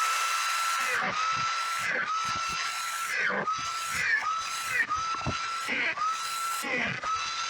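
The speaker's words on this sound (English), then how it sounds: "So I've set up with my poor man's drill press to help me put the holes in there." A makeshift drill press bores holes into a harvested bamboo pole, a continuous whining motor with a steady pitched tone, broken by repeated dips and scraping bursts as the bit bites into the bamboo, close and fairly loud.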